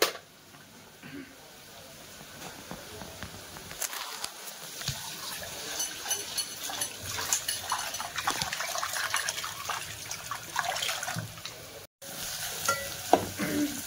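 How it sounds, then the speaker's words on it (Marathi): Onion and potato fry in oil with a soft, steady sizzle and light stirring, growing a little louder and busier partway through, with faint clatter in the background. "जर कांदा आणि बटाटा फ्राय होतोय तेलामध्ये"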